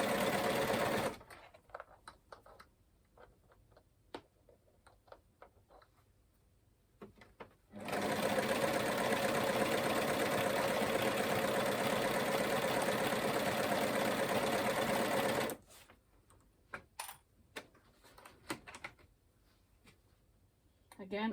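An overlocker runs in a steady, loud burst for several seconds, sewing elastic onto maxi-skirt fabric, between quieter stretches of scattered ticks and handling noise; speech is present.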